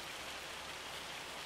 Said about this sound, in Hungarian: Nem akarjam ezt benézni esőnek, mert ez jégeső.